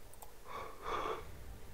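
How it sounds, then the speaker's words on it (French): A big drawn-out human yawn, a breathy rising and falling exhale heard close up and fairly quiet. "J'ai entendu un énorme bâillement"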